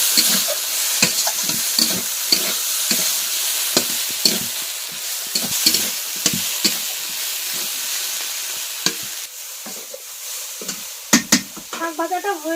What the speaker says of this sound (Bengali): শাক ভাজাটা হয়ে গিয়েছে